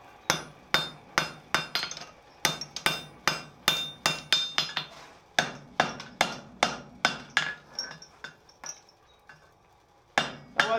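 Hammer blows ring out on hot chain links being forge welded, a fast steady run of sharp metallic strikes with brief pauses between bursts, loud and close with no talking.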